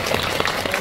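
A theater audience at a Netflix Mask Girl film Q&A claps for an actress: a brief, dense patter of many hands at moderate distance, with no voices.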